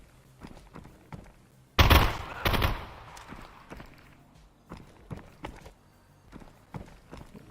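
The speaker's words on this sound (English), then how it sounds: "Who the hell is shooting at me?" Gunfire in the VR video game Contractors: a loud, close burst of shots followed by a second blast, then a trail of lighter rhythmic thuds and steps fading in and out.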